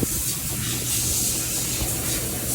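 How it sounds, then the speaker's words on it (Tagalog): Water hisses steadily as it is sprayed onto an air-conditioner compressor during a compressor replacement, a continuous close, broad spray with no breaks. "Didilig na din po natin yung compressor."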